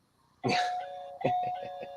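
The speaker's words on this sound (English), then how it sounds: "your doorbell's ringing" A doorbell chimes twice, a clear two-tone ding-dong heard close and fairly quiet, followed by a short fading ring.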